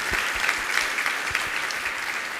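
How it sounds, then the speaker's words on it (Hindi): A seated audience at a Jain monk's question-and-answer discourse breaks into steady, dense clapping, a continuous patter of many hands close by that holds level for the whole stretch with no voices over it. "बजाओ एक बार ताली।"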